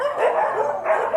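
Dogs at a stray-dog animal shelter in Chonburi, Thailand, bark in two close, loud bursts, alone with no talk.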